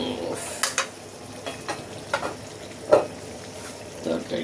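Fish and pineapple curry cooking in a covered pot, a gentle bubbling sizzle with scattered light clicks and clinks of the lid or utensils, fairly quiet and close, no speech.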